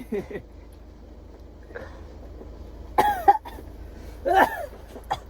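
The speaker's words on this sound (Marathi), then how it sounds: "असं खरं बोलल्यावर खोकला कसा लागतो बघा." A few sharp coughs and throat-clearing bursts break up a quiet room, with brief speech sounds in between.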